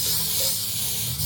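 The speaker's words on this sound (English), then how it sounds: "control the nozzle when you're spraying and just do it lightly like this, so you get a sort of like splatter effect" Dental impression silicone sprays lightly from a nozzle over an impression tray in a soft, steady hiss that holds for a moment, close and alone.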